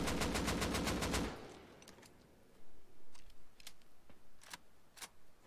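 Gunfire in Rust opens with a loud, rapid burst of automatic shots that ends after about a second, followed by scattered sharper single cracks and clicks spaced apart in quieter surroundings.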